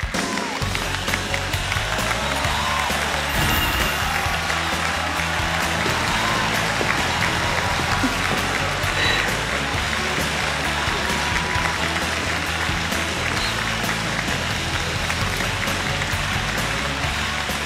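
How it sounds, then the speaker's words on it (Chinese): A studio audience at a televised job-hunting show applauds steadily and loudly for a contestant walking on stage, dense clapping sustained without a break, with a faint voice underneath. "我们掌声有请肖娜"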